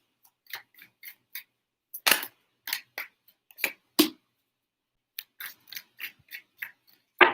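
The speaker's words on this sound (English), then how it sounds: "3 shuffles." Tarot cards being shuffled by hand, a series of crisp, close snapping flicks in irregular clusters, with quiet gaps between the groups and no voices.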